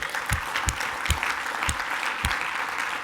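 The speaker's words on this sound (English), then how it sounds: "I want you all to give a round of applause to all the speakers" Audience applause at a closing conference session, steady broadband clapping with a few sharper individual claps standing out, filling the whole stretch at moderate loudness.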